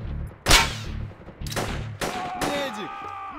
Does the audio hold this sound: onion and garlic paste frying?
no